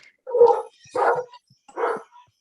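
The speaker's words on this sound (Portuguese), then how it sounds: "tem um cachorro latindo aqui" Dog barking three times in an evenly spaced series, each bark a short, fairly loud burst, heard alone without talk.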